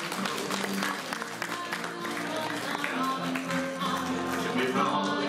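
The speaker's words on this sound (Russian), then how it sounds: "По традиции мы провожаем эту пару финалистов аплодисментами." Audience applause for a pair of finalists at the YJ Fest 2018 3x3 dance final, steady and dense for the whole stretch, with music playing underneath.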